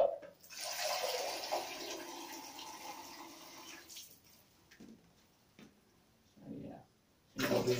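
Water running into a sensory bubble tube during cleaning, a steady rushing pour for about four seconds, then quieter trickles and a second burst of flow at the end.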